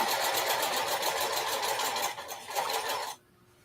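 A sewing machine top-stitching a bucket hat runs in a steady, fast mechanical whir for about three seconds, close and alone, then stops abruptly.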